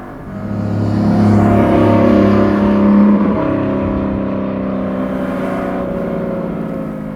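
A Porsche 718 Spyder engine revs up loudly and holds a deep, rumbling drone that settles into a steady hum, echoing slightly off canyon walls.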